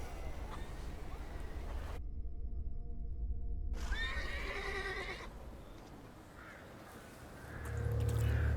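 A horse whinnies in the video game The Thaumaturge, a clear neighing cry set against a quiet ambient bed with a few bird caws, followed by a low rumble near the end.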